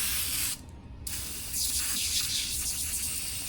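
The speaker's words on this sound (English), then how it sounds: "spray a nice thick layer" Glass cleaner sprays onto the paint of a 2002–07 Subaru WRX/STI in close, hissing bursts, with a brief pause and then a longer sustained spray.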